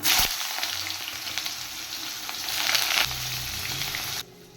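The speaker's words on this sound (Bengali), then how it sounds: "বেগুন ভেজে নিচ্ছি" Eggplant fries in hot oil in a pan with a bright, crackling sizzle that swells and falls, mixed with occasional stirring clatter, before cutting off near the end.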